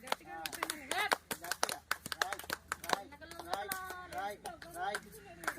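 People at a Brahmin community Karthika Vana Samaradhana gathering clap in short, irregular bursts close by, mixed with loud talking voices throughout.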